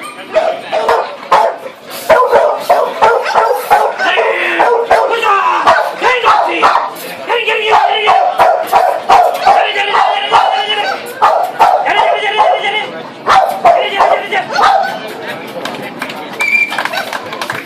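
A dog at a weight-pulling competition in Tata barks and yips repeatedly in sharp close bursts, mixed with lively crowd chatter and people talking throughout.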